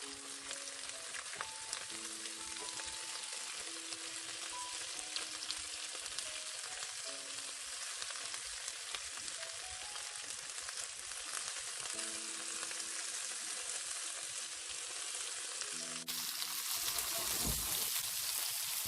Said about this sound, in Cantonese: 煎一煎呢啲蝦，唔需要煎太耐，每邊煎佢30秒就差不多㗎喇。